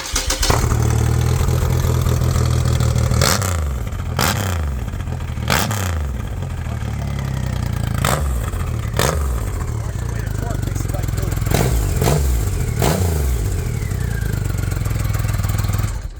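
A 2009 Triumph Rocket III motorcycle engine with a custom exhaust rumbles loudly with a deep, throaty exhaust, revving up repeatedly in sharp bursts; a voice talks over it.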